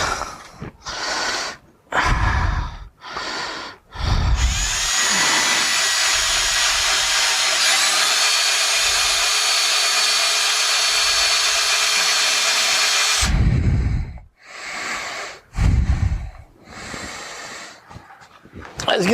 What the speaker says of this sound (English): So I might have to drill the very dangerous way.